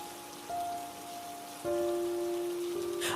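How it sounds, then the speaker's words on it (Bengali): Light, steady drizzle falls over a remote village, a soft continuous patter with no voices, sitting under a faint sustained tone that swells midway and stays louder to the end. "সকাল থেকে টিপটিপ বৃষ্টি পড়েই চলেছে"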